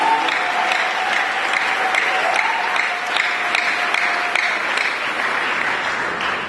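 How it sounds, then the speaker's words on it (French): A congregation at a Catholic mass in Kinshasa applauds the chaplains, a steady, dense clapping from a large crowd that holds unbroken at full loudness throughout. "Est-ce qu'on peut acclamer les aumôniers?"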